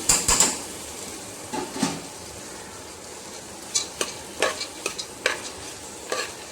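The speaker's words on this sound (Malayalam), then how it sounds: "നെയ്യിലേക്ക് ഊറ്റി വച്ചിരിക്കുന്ന കടലപ്പരിപ്പ് ഇട്ട് കൊടുക്കാം ഇട്ടൊന്ന് മൂപ്പിക്കാം" Chana dal roasting in ghee in a pan for a Kerala Onam payasam; a soft sizzle underlies scattered scraping stirs of a spoon against the pan, in short irregular clusters, close and fairly quiet.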